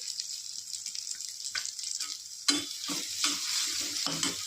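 Ground masala paste fries in hot oil with a soft sizzle that turns louder and crackling as it hits, while a spoon stirs and scrapes the pan.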